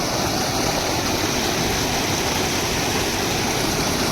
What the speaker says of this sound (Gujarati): નદીઓ નાળા છલકાણા છે